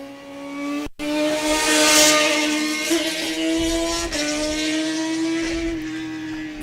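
Racing motorcycles crossing the finish line as the last lap flag is shown at a race meeting, a loud, close, sustained high-revving engine whine with distinct gear-change pitch steps and a brief cut near the start, no talking.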